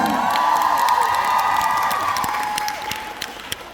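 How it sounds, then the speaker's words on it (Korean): Loud applause and cheering from a crowd at a Korean fan concert, with high-pitched shrieks and whoops over dense clapping that gradually tapers off into scattered claps. "박수 부탁드립니다"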